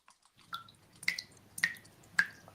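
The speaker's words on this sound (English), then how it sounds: "Water dripping." Water drips in slow, evenly spaced plinks, four clear drops about half a second apart, close and isolated against a quiet background.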